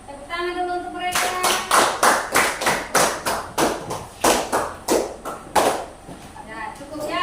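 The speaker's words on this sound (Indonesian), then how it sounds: "Tepuk tangan dulu untuk mereka." A classroom of students claps for a student group: a bright, loud, rhythmic run of about a dozen unison claps at a steady beat. A teacher's voice is heard briefly at the start.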